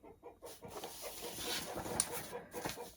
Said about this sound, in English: Chicken started out as soon as I turned the camera on